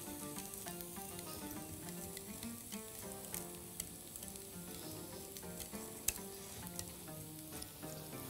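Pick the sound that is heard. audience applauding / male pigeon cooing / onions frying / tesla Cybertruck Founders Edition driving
onions frying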